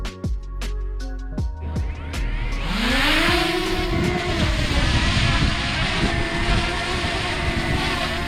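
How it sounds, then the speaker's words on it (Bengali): A DJI Mini 2 drone starting up and lifting off outdoors, rising into a steady high propeller whine that stays loud and close, preceded by a few sharp clicks and taps. "নাও এখন আমরা ড্রোনটা ফ্লাই করব।"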